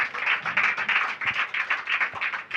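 Audience at a Telugu church sermon clapping in quick, even rhythm, a close, steady burst of many hands with no talk over it.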